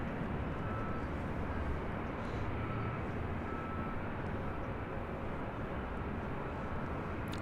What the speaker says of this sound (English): This is Southwest Airlines 2833 taking off to Baltimore on a MAX 8.